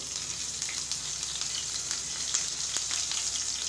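Cumin seeds and chopped green chillies sizzle steadily in hot oil in a pan over a low flame, a close, continuous crackling hiss with no talking.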